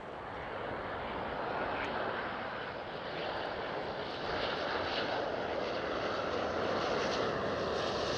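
A TUI Boeing 787 jet airliner roars steadily at Schiphol Airport, Amsterdam, a broad sustained rumble that swells slightly louder toward the end, with no voices over it.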